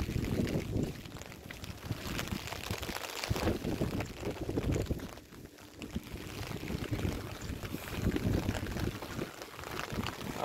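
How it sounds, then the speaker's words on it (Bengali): Wind and rain on an open site at a housing project, heard as a continuous loud rushing and buffeting with gusty surges that keep up throughout. "বৃষ্টি বাতাস ভালোই লাগতেছে"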